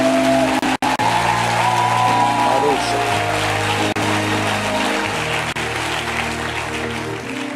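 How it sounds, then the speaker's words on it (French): A church congregation applauds, a broad wash of clapping over sustained keyboard chords, with a voice speaking over it before the applause fades slightly toward the end. "Acclame, acclame, acclame."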